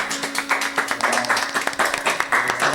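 Church congregation at a Thursday praise service in Seattle applauds with brisk, uneven clapping from many hands, close and fairly loud, sustained for a few seconds without speech.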